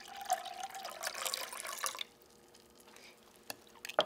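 Water pours into sugar syrup for lemon limber, a trickling, splashing stream for about two seconds that stops, followed by quiet with a few faint drips and small clinks near the end.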